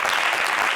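Dense, loud applause from an audience, a continuous roar of many hands clapping together at close range.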